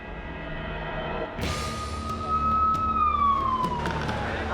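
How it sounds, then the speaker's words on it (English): An ambulance siren wails and sweeps in pitch over a low engine rumble, rising in from a distance and growing clearer. "it's a real relief when I can hear those sirens"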